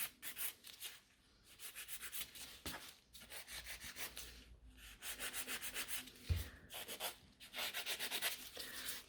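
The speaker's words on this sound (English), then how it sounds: "I'm always picking up and filing the places where I know I've got too much product" A nail file rasps back and forth in rapid, rhythmic strokes across gel nail extensions on tips, the scratchy rubbing close and fairly quiet, broken by short pauses.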